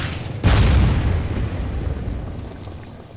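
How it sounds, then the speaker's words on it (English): Artillery in a World War II Burma Road campaign video game: a single loud, close boom hits suddenly and then fades into a long, rolling rumble over about three seconds. "Interesting. Artillery."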